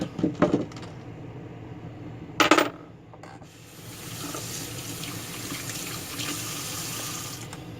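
Water running from a tap into a sink to soak the cylinder of a Remington 1858 revolver, with a few louder splashes early on, then a steady, moderate stream of running water.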